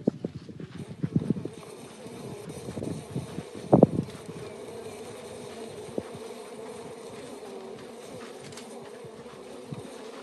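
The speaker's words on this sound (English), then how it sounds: "that's going to play the sounds of disturbed buzzing honeybees for the elephants" Recorded buzzing of disturbed honeybees, played through a speaker to elephants outdoors, gives a steady low drone throughout, with scattered thumps and clops over it.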